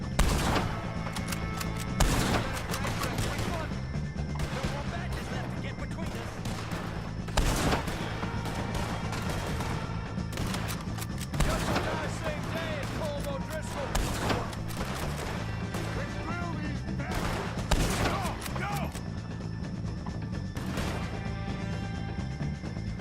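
A shootout with the O'Driscoll gang in Red Dead Redemption 2, rapid repeated rifle and revolver shots cracking in dense bursts over an ongoing hum, with occasional shouted voices in between.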